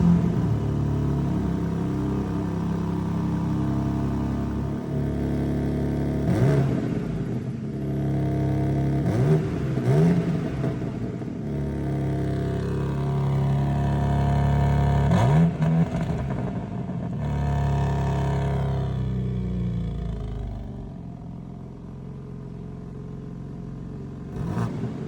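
A 2023 BMW M2 G87 coupé fires up, then idles with a deep rumbling burble broken by several sharp revs that rise and fall, heard close and alone.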